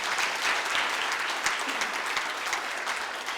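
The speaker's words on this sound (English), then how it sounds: "Let's give them a round of applause." Guests at a county newcomer recognition awards dinner applaud the venue staff, a full steady burst of clapping from a large room that holds evenly throughout with no talk over it.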